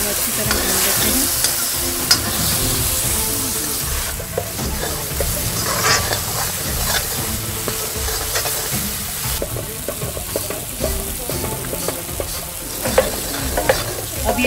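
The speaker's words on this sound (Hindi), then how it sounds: "प्याज के बीच में ये टमाटर को भी हम अच्छी तरह भून लेते हैं।" Onions and tomatoes sizzle steadily while being fried and stirred in a pan, with continuous frying hiss and scraping stir sounds, close and fairly loud.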